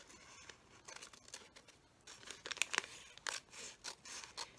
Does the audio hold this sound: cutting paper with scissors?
yes